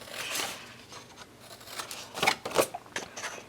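Scissors snip paper flaps on a 6x6 mini album page, a few quiet, close crisp cuts and rustles in irregular bursts, with no talking.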